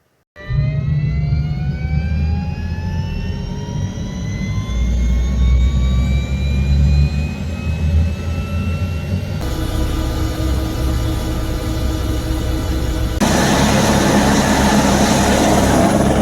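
Steady, loud helicopter engine and rotor roar inside the cabin during a flight to Kedarnath in the Himalayas, with a rising turbine whine early on, continuous throughout with no talk.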